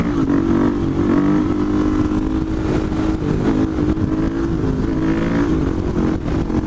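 A supermoto motorcycle accelerates hard up through second, third and fourth gears, a loud, close, continuous engine roar with brief dips in pitch at each shift, and no one talking.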